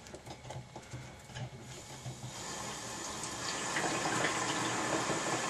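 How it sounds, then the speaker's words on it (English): Water rushes into an Easygreen sprouter through a newly opened saddle valve, a soft steady flow that grows fuller and louder after a few seconds, with faint handling noises at the start. "And you can hear the water starting going into the Easygreen."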